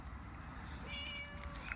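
A cat meows once, a short high mewing call, along a walking route on the Camino Portugués between Padrón and Santiago de Compostela, faint against a steady outdoor background hiss.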